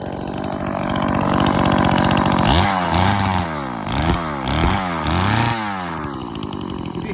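Two-stroke petrol engine on an RC boat pull-started by cable, catching into a loud, buzzy, high-revving whine that rises and dips through several sharp throttle surges before settling to a steady idle.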